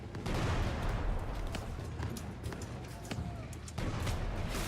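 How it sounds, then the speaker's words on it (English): Cannons fire in the Shadow Tactics: Blades of the Shogun video game, a dense, loud barrage of booming blasts blurring into one another over a few seconds. "Aim the cannons."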